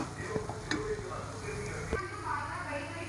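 Chili, garlic and turmeric frying in a pan over lowered heat, a steady soft sizzle with a few sharp ticks of stirring against the pan.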